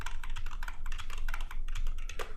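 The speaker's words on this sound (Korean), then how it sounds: "스페이스 눌러서" Rapid typing on a computer keyboard, with a steady run of close, crisp key clicks that never stops and no voice over it, while indentation spaces are added to HTML code.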